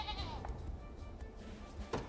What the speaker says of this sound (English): Oh my gosh, so many goats!